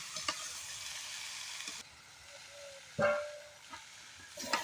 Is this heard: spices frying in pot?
yes